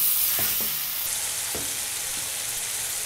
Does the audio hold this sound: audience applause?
no